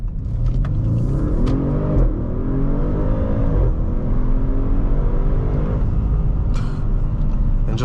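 A 2017 Audi RS7 4.0T engine revs and accelerates hard, its pitch sweeping upward in repeated climbs over a constant road rumble, loud and close.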